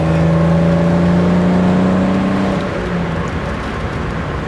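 Alfa Romeo Spider 3.0 V6 with aftermarket exhaust, a steady engine hum and drone holding under load, then easing off slightly in the final seconds, without anyone talking.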